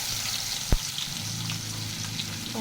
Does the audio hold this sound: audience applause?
no